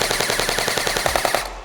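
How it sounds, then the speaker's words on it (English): An airsoft MPX rifle fires on full auto with a .20 gram BB at about 17 rounds per second. A close, rapid, even stream of sharp shots rattles for about a second and a half, then cuts off. "here's a video clip of me shooting the MPX on full auto"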